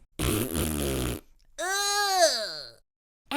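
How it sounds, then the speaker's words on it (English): A cartoonish fart sound effect from a children's read-aloud of The Toot Fairy: a loud, buzzy blast of about a second, then a pause and a rising-then-falling squeaky toot, both close and clear with no talk. "There are lots of toots that she has to grow."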